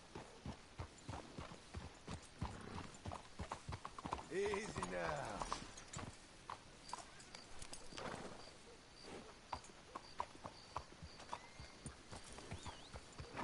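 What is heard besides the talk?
horses in a video game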